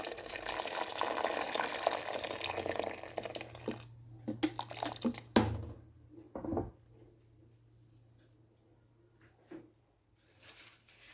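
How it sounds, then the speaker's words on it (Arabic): Water pours from a tap into a pot of fava beans being prepared for sprouted bean stew, a rushing fill that fades into scattered clinks and drips. "وهنضيف عليه المية"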